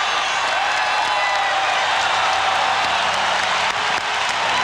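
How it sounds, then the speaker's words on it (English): At the Rose Garden, a basketball arena crowd at a 2000 playoff game between the Blazers and Timberwolves cheers and applauds in a loud, dense, sustained roar. "David Stoudemire gets the crowd going"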